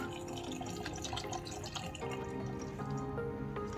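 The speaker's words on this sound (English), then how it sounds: "And we're going to add a slight bit of water" About a third of a cup of water trickling and splashing into a pan, a short close pour with dripping sounds and no speech.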